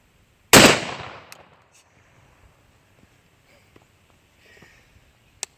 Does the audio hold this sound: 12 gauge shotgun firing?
yes